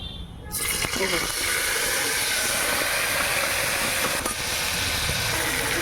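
Tomatoes drop into a hot pan already holding black pepper in a home kitchen, setting off a sudden loud sizzle that settles into a steady, close hiss.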